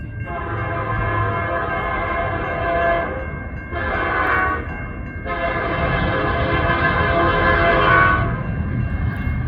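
CN freight train S763, a rebuilt locomotive number 8305, passes at Ladysmith, Wisconsin, sounding a loud multi-tone horn in three long blasts over the rumble of the moving train, close and alone.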